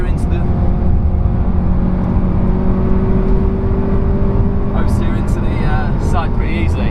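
Front-wheel-drive car lapping the Nürburgring Nordschleife in wet conditions, a steady engine drone and road roar that rise slightly in pitch, heard from inside the car under continuous talking.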